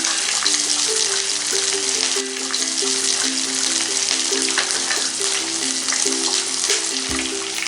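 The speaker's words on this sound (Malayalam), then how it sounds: "ഇനി ഇതിലേക്ക് 4 പച്ചമുളക് സ്ലൈസ് ചെയ്ത് ചേർക്കാം" Four sliced green chillies sizzle in a pan while cooking a carrot pachadi, a continuous bright hiss that stays steady from start to end, with a soft melodic tune running beneath it.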